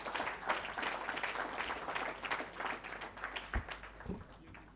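Audience applause at a FICCI HEAL 2025 conference session, a dense steady wash of many hands clapping that fades slightly toward the end, with a few sharper claps near the close.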